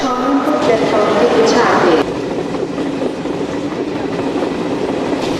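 A train travelling out of Howrah station bound for Haridwar gives a steady, close rumble that is loud for the first two seconds and then settles into a softer, continuous drone.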